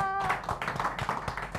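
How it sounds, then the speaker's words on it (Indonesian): Scattered hand clapping from a small stand-up comedy audience, a run of uneven claps close by that overlap with a voice talking. "tepuk tangan."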